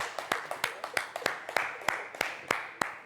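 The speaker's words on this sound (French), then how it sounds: "Merci d'applaudir l'OUA." A small audience on a TV show claps in a loose, sparse rhythm, each sharp clap distinct and fairly close, around a dozen over a few seconds.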